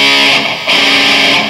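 Overdriven electric guitar plays three blues-scale notes with a sustained fifth chord, thick and distorted, ringing without a break.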